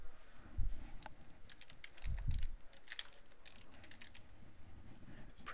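Light, quick keystrokes on a computer keyboard, a quiet irregular patter of typing as a name is entered, with a few dull thumps underneath.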